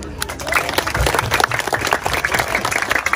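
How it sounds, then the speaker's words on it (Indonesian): Applause from a mosque congregation during a humorous sermon at a floating mosque, a steady burst of clapping mixed with crowd noise and some overlapping speech. "Tepuk tangan dulu."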